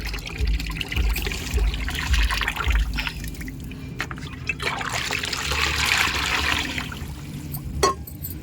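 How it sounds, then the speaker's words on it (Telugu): Buttermilk pours into a 20-litre bucket half full of water for feeding rooftop garden plants, a steady close trickle and splash that runs the whole time with faint background noise. "ఇందులో మజ్జిగ పోద్దాం"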